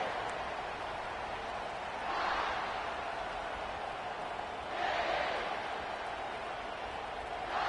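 Stadium crowd noise in a Madden football video game: a steady, distant roar that swells twice into louder surges before settling back to a constant hum.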